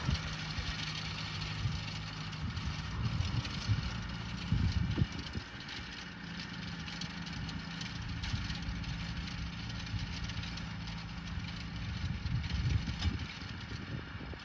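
A tractor engine idles with a steady low diesel rumble and rattle, continuous and moderately close, with no one speaking.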